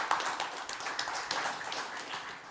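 An audience at a deeptech ecology pitch event claps to welcome a CEO to the stage, a moderate round of applause with individual claps standing out, fairly close and without talk.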